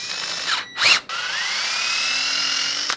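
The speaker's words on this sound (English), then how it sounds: "I'm going to drill out to exactly 5/16" A drill cuts a 5/16 inch hole through stacked washers, heard as a steady, close whine lasting a few seconds after a couple of short revving bursts at the start.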